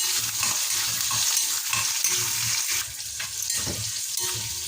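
Onion, curry leaves, garlic and fish frying in oil, a steady close sizzle with soft stirring scrapes and small spattering pops throughout.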